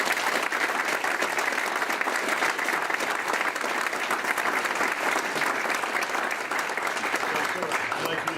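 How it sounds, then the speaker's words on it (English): An audience at a military awards ceremony applauds an Army civilian honoree with loud, dense, sustained clapping that holds steady the whole time. "Let's give Robbie a big round of applause"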